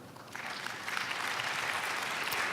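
Audience applause fills the hall at an environmental awards ceremony in Monaco, a steady, fairly faint wash of clapping that starts softly and swells after a moment, sustained to the end with no voices over it.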